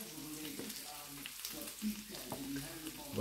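Three strips of bacon frying in a pan, a steady soft sizzle beneath quiet talk, with occasional stirring clinks.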